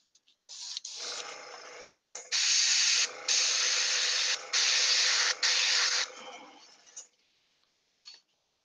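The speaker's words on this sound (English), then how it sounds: "Almost done with the airbrushing stuff." An airbrush sprays paint onto miniatures in loud, close hissing bursts of one to two seconds each, separated by short pauses, then a couple of quick final puffs.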